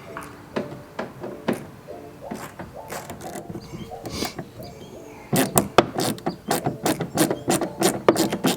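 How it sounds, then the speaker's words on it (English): A ratchet works loose a 10mm bolt on a Jeep Grand Cherokee SRT, giving irregular clicking bursts that become a faster, louder run of sharp ratcheting clicks in the second half. "So we're going to go ahead and remove the 10mm bolt"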